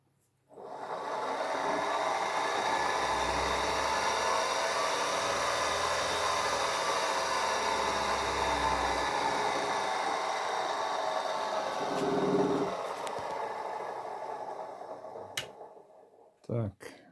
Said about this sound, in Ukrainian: От 993 включаю двигун.